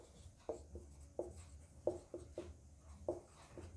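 A pen writes on paper, producing quiet scratchy strokes and small taps at an uneven pace, close by, with a faint low hum underneath and no talking.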